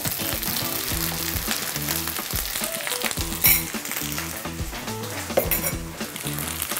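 Garlic steak rice with egg being stir-fried in a pan, a steady loud sizzle and frying hiss with repeated scraping and clinking of a spatula against the pan, no talking.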